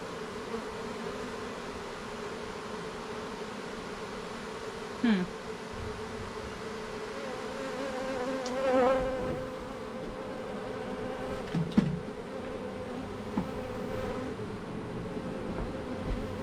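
A steady low buzzing of many honey bees in a hive box hums continuously, with a few brief louder buzzes passing close by and occasional faint knocks.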